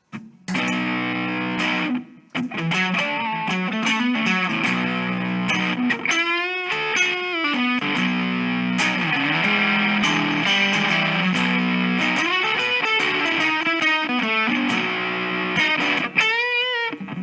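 Electric guitar run through a distortion effects pedal, loud and steady with sustained gritty chords, bends and vibrato notes, a short pause near the start and brief gaps between phrases.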